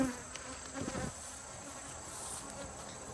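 Honey bees in a small, weak hive of about six frames during an autumn inspection make a dense, continuous buzzing close by, with one louder swell near the start and no talking.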